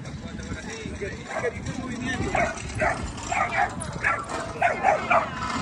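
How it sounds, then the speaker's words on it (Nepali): Several dogs bark and yip repeatedly at a middle distance on a trip around New York and Block Island, with people talking throughout. "कुकुरहरू बाजिरहेछ"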